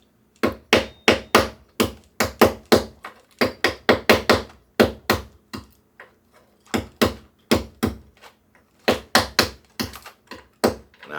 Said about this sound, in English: Now I'm just using a small hammer.